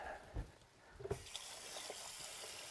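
Cold water from a kitchen tap gushes into a sink, starting with a few thumps and clicks, then settling into a steady, close, continuous rush with no voices.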